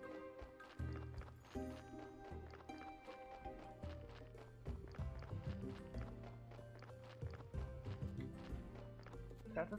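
Donkey hooves clip-clop in the video game Graveyard Keeper, a steady run of hoofbeats over game music that goes on throughout.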